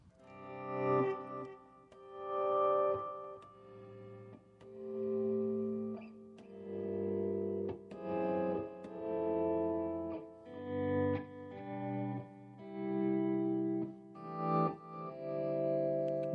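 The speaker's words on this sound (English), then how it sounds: "Let me give a little reverb here," Electric guitar through a pedalboard with reverb and delay, a volume pedal swelling the notes, sustained chords and melodic lines ringing with echo tails, played alone at moderate level.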